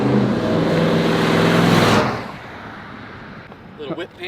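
A 1934 Chevy Master Deluxe classic car roars past close by on a gravel road, loud engine and tire rumble for two seconds before quickly fading away, followed by a brief faint voice.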